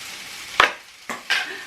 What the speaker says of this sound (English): I'm just gonna add some butter to the onions because I love the stuff